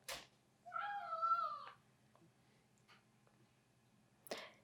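In a kitchen, a cat lets out one drawn-out, whining meow of about a second, close and clear, followed by faint small noises and a brief scuffle near the end.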